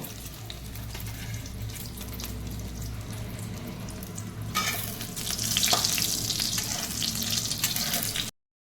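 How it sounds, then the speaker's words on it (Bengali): Egg frying in a pan for scrambled egg bhujia gives a continuous sizzle with stirring scrapes, growing brighter and louder midway before stopping abruptly. "ডিমটা দিয়ে আমি এবার ভাজবো, ডিমের ভুজিয়া করে নেব।"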